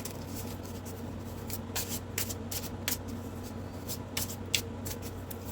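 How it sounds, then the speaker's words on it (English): Brand-new, slippery oracle cards shuffled by hand at close range, a soft continuous riffling rustle with scattered sharper snaps and flicks, no talking. "Let's shuffle these again. They are very slippery."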